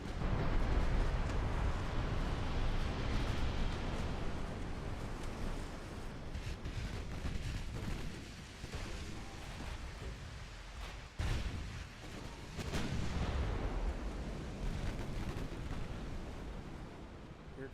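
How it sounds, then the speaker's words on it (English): Naval gunfire from warship shells in Ultimate Admiral Dreadnoughts rumbles in a dense, continuous barrage of deep booms, with several sharper blasts cutting through around the middle and later on, loud and sustained throughout. "Get some fucking shells downrange."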